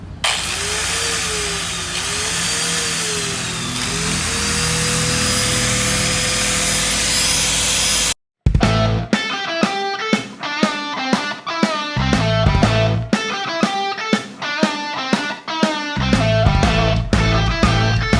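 Grinder sharpening a chisel, starting with a long steady high whine with gently wavering pitch, then after a brief break a run of loud rhythmic grinding passes with repeated sharp tonal bursts.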